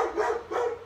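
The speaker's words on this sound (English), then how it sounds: "Really? Dogs?" Dogs barking in two short bursts, fairly close and moderately loud, with no talk over them.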